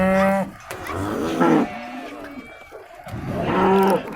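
Cows moo at the entrance of a livestock market in Tokmok, with two loud, close, drawn-out lows at the start and end and quieter bellowing and market noise between them.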